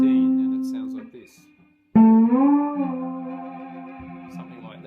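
A three-string cigar box guitar played with a slide picks out a riff: a sustained note fades out, then a fresh bright attack slides up in pitch and rings on, alone and close.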